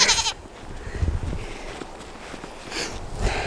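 Goats bleat nearby in a few loud, strained calls, one opening the clip and others later, with faint shuffling and footsteps between them.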